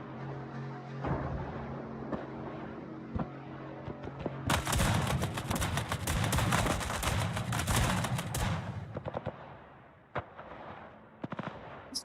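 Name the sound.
naval guns firing in World of Warships video game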